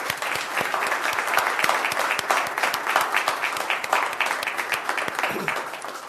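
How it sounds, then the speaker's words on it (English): At a city council meeting, an audience bursts into lively, continuous applause for a team, dense close clapping filling the room for several seconds before tapering slightly. "Let's have a big round of applause for the whole team"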